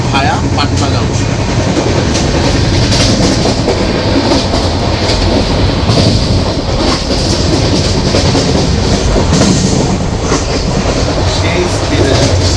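Kumbh Express train running at speed between Haridwar and Howrah via Patna, loud continuous rumble and rattling of coaches with rhythmic clickety-clack of wheels on rail joints throughout.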